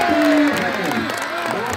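A crowd at a volleyball tournament in a stadium claps and cheers in a short burst of applause, with a voice speaking over the crowd noise.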